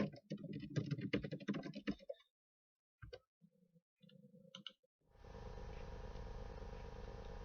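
Computer keyboard typing while a prompt message is edited in a coding program: a fast run of keystrokes, then a pause and a few isolated clicks, followed by a steady background hum.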